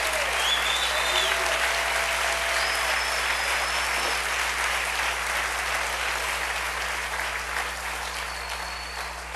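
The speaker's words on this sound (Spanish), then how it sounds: "Dale un aplauso fuerte al Rey" A church congregation gives a loud, sustained round of applause, dense and steady for the whole stretch and easing slightly near the end, with scattered voices and cheers mixed in.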